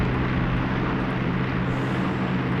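A World War II era attack aircraft flying in for a bombing run in Graviteam Tactics Mius Front, a steady droning engine roar that holds level and loud throughout.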